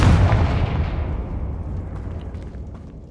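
A Confringo blasting spell explodes in Hogwarts Legacy with a loud, booming burst right at the start, then rumbles and fades away over a few seconds.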